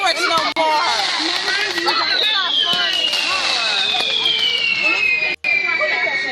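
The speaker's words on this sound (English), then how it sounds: "Fireworks no more." Fireworks go off nearby in a dense, continuous crackle with a long rising-then-falling whistle, loud and sustained throughout.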